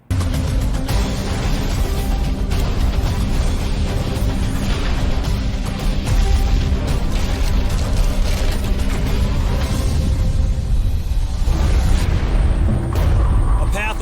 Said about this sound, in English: neighborhood reduced to ash by an explosive train collision